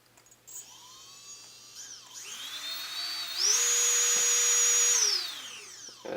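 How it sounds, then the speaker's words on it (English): Small brushless quadcopter drone motors with props removed spin up one at a time on a motor test bench, rising to a steady high-pitched whine, holding, then winding down; close and loud with no talk. "test the motors, bring them up, and they're going to spin up, just like that"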